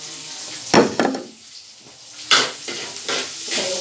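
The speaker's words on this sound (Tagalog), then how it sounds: "ato na ko rin ilunod ang bombay" Onions sizzling in a hot pan while being cooked, with a steady frying hiss and a few louder stirring scrapes and clatters near the start and middle, close and alone with no talk.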